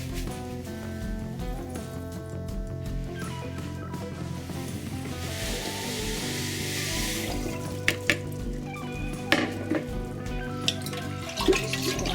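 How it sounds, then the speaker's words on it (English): Running tap water splashes over a stirring utensil being rinsed, a steady rushing stream that swells midway, followed by a few sharp knocks and clinks near the end, close and with no talking. "I'm gonna rinse this so I can use it to stir in the sugar."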